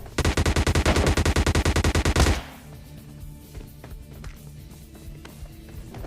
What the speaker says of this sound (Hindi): देखो फुटस्टेप्स भी आ रहे थे और गन शॉट्स की आवाज भी आ रही थी।